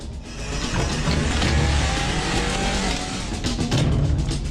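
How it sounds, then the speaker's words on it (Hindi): A car pulls away with its engine revving hard and tires squealing, loud and close, the roar rising and holding steady before easing off slightly near the end. "चलो गाड़ी निकालो।"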